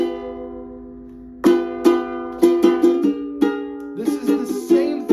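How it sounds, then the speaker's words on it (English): Ukulele chords strummed on an untuned instrument, a series of bright plucked strums with ringing sustain after a soft opening note, growing busier and denser toward the end, with no voice. "Because if you don't tune it every time, it might sound like this."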